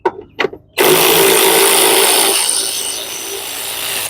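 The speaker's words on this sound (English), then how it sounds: "I got my automatic socket wrench to make quick work of things." An automatic socket wrench whirs loudly in a single continuous burst while removing the AC compressor bolts on a 2000-2006 BMW 325ci, preceded by two short knocks of handling.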